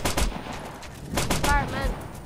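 Rifles fire in the video game Operation Flashpoint, a quick volley of sharp, loud shots at irregular spacing, with a voice speaking briefly in between.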